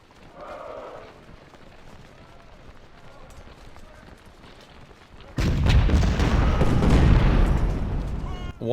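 Cannon volley artillery fire erupts in the Ultimate General: Civil War video game, a sudden loud roar of booms after quieter battlefield ambience with faint distant rumbling.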